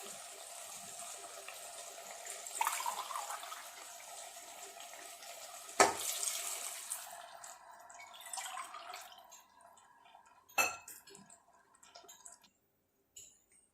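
Water is poured into a pot of chicken and potato biryani, a splashing gush that trails off into faint drips and a soft simmer, with a couple of sharp clinks from a utensil against the pot.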